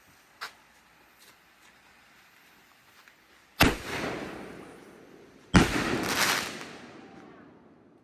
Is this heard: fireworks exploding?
yes